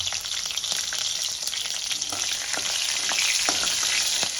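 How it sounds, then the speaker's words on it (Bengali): Green chillies and whole cumin seeds crackle in hot oil as a tempering for a rohu fish curry, a dense, continuous close sizzle with a few faint stirring scrapes and no voices. "এবার আমি ফোড়নে দিয়ে দেব কাঁচা লঙ্কা আর গোটা জিরে। ফোড়নটা আমি একটু ভেজে নেব।"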